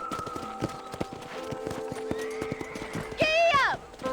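Rhythmic clip-clop of hooves in Red Dead Redemption runs under a voice, ending in a loud, wavering horse whinny near the close.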